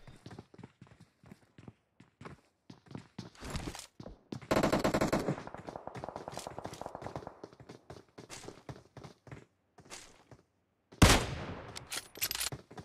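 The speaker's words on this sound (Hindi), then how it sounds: "भाई फायरिंग करते हैं" Rapid bursts of automatic gunfire in PUBG Mobile during a tournament match, clusters of sharp shots with a dense volley in the middle and another loud burst near the end, separated by short quiet gaps.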